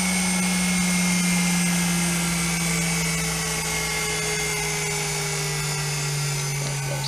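A treadmill motor being rigged for lathe use whines steadily, its high tones gliding slowly downward as it winds down, loud and close with no talk.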